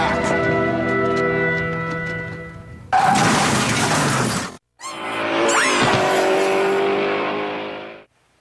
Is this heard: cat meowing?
no